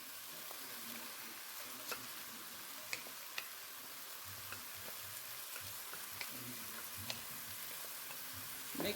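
Food sautés quietly in a pan before rice is added, a soft steady frying sizzle broken by scattered light ticks and pops, and nobody speaks.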